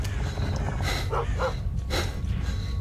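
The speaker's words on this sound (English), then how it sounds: "Oh, there's some dogs." Dogs in S.T.A.L.K.E.R. Call of Chernobyl give two or three short barks and snorts at moderate distance over a heavy, low rumbling game ambience.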